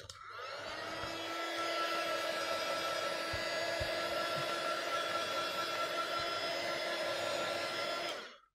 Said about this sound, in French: je vais encore vous embêter avec ce heat gun.